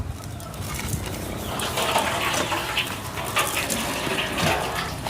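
Water gushes steadily from a hand water pump at a home outdoors, a loud, continuous splashing rush with no talking.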